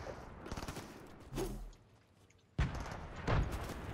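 Gunfire in Fortnite crackles in rapid volleys, with a heavier boom partway through and a loud, close burst of shots toward the end over a busy game background.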